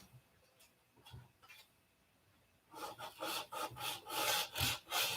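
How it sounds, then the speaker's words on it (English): A few light scrapes, then steady rhythmic back-and-forth rasping of sandpaper on wood, close and growing louder. "So the Zen of sanding is kicking in."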